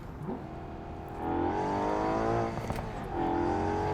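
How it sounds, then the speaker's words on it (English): A car engine hums and rises in pitch as it accelerates, easing off briefly before revving up again, steady and fairly close. "the sound of this engine is not that great, but the car drives really smooth"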